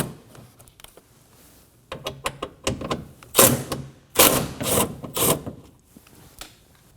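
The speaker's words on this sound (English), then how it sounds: "Now remove these two 10mm bolts. Using the 10mm socket, go ahead and take them out." A 10mm socket on a ratchet backs out bolts inside the front door of a 2017-2024 Nissan Armada during a window regulator replacement: sparse clicks at first, then several close bursts of rapid ratcheting and rasping.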